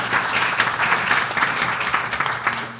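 An audience at a policy forum applauds the speakers and moderator, steady clapping with individual claps audible over a low background hum.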